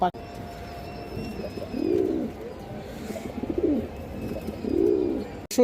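Pigeons, an all-white Arabian hen among them, coo in three soft, rolling bursts close by, with a faint high whine in the background and no talking.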